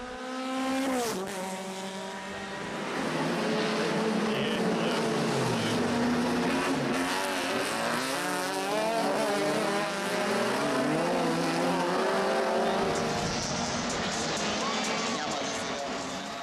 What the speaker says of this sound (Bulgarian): Шести по трасето се движеше състезателя от Стара Загора Светослав Ковачев с номер 50 с Volkswagen Golf